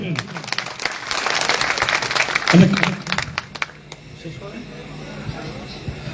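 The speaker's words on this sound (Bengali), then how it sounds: "সবাই জোরে হাত তালি দেবেন" Crowd applause at a political meeting, a burst of many hands clapping for about three seconds that peaks and then fades, with voices shouting and talking over it and continuing after.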